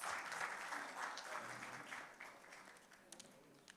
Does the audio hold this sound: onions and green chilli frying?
no